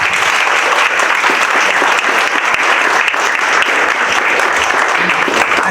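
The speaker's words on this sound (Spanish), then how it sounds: "Les pido otro aplauso para ellos," At an international academic forum, a large audience gives speakers a loud, sustained round of applause, dense and continuous throughout with no pauses.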